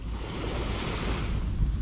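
Sea waves wash steadily onto the beach at Port Dickson, a loud continuous surf roar with wind rumble on the microphone and no talk.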